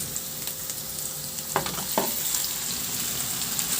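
Beef and onion stir-fry in a pan, giving a steady, loud sizzle with a couple of brief scraping stir strokes partway through; no voices.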